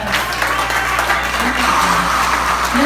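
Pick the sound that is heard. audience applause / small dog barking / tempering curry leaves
audience applause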